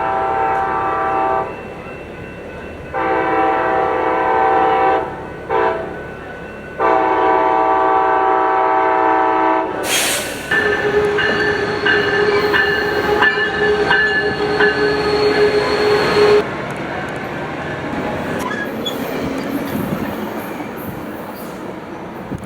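Coaster commuter train led by SC44 Charger locomotive blasts its horn in several long, loud blares at Carlsbad Village Station, then rumbles past with squealing wheels and rolling clatter fading as it goes by.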